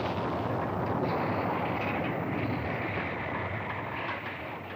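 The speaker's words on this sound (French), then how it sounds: "La puissance de cette bombe est vraiment terrifiante." A bomb explosion and its shock wave in a French animated series roar as a loud, continuous, dense rumble that holds steady throughout and eases slightly at the close.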